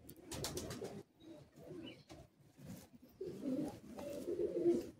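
Madrasi high flying pigeons coo at close range, low throaty calls swelling and fading in repeated waves, strongest toward the end, with some faint background noise.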